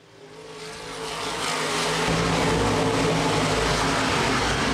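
Open wheel modified race cars roar through corners 3 and 4 at Baer Field Speedway, engines swelling from a distant drone into a loud, sustained full-throttle howl as the pack passes close.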